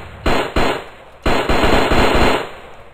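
Pistol gunfire in the video game Raze 2: loud, close shots fired singly and then in a quick rapid string, each with a sharp crack.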